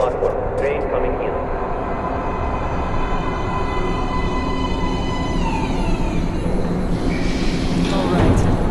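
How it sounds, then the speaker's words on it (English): Subway train pulling into a platform in the Metro Last Light video game, a rumbling rolling roar with descending metallic squeals and screeching brakes as it slows, loud and close. "Please step away from the edge of the platform. Train coming in."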